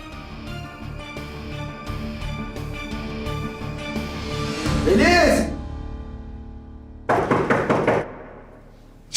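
In a tense Turkish TV drama scene, someone knocks loudly and rapidly on a door. A quick burst of blows comes near the end, after background music and a rising swoosh.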